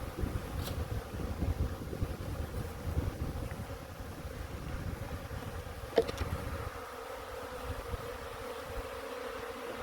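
Honey bees flying around two-way mating nuc boxes, a faint steady buzzing drone of many insects throughout, with a soft knock near the middle and a quieter stretch afterward.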